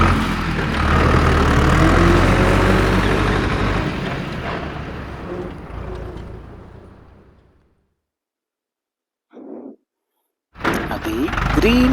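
A cartoon tractor dumps soil to fill a badly damaged road. A loud engine rumble plays for several seconds while a voice talks over it, then fades to silence. Later come a brief thunk and a return of sound.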